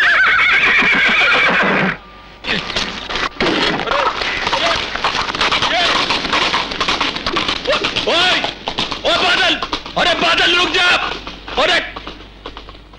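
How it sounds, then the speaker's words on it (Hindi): A horse from the 1985 Hindi film Mard whinnies loudly at the start, then clip-clops away at a gallop in a steady rhythm under continuous dialogue, fading as the scene goes on. "भाग गई ना तेरी घोड़ी"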